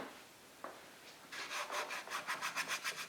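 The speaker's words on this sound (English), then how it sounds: "wipe off that little bit of scratch there" A cloth rubs against the plastic of a cold air intake on a 2018-2023 Toyota Camry V6, making a quiet scrape and then a rhythmic series of rasping strokes that grow steadier toward the end.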